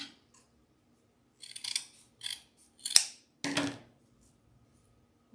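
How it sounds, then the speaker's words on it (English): Scissors snipping through thick wired ribbon, several separate sharp cuts spaced out over a quiet background, close and crisp with one distinct click in the middle. "Normally I can cut 4 ribbons at a time, but the wire in this is very thick."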